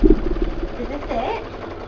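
An embroidery sewing machine stitches a tack-down line, its rapid, steady mechanical patter running close and fairly loud while a person talks over it.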